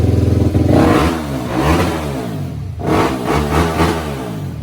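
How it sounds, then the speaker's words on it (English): A KTM race motorcycle engine revs hard at close range, with repeated throttle blips rising and falling over a few seconds, loud and alone with no talk. "Give her some revs."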